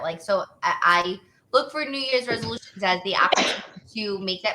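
A single brief sneeze breaks into a relaxed conversation about New Year's resolutions, partly masked by the people talking around it.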